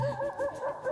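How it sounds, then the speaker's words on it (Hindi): A dog whimpers and cries in a comedy sitcom scene, with a high, wavering whine that repeats in short rising and falling pulses, close and steady, over a faint background hum. "ये कुत्ता रो रहा है"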